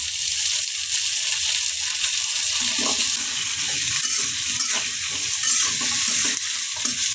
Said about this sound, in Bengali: পেঁয়াজের সাথে আমি আলুগুলো ভাইজা নিব